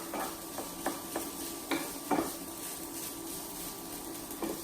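A spoon stirring bacon and egg fried rice with garlic in a pan, giving a faint, steady frying hiss broken by several sharp scrapes and clinks of the utensil against the pan.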